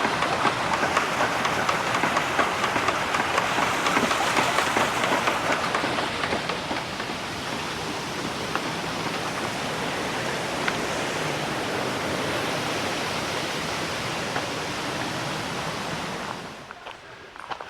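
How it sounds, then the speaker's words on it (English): A small stream near Ramsau in Berchtesgaden National Park, Germany, rushes close by as a loud, steady broadband hiss of flowing water before cutting off near the end. "it just happened across this little quaint waterway."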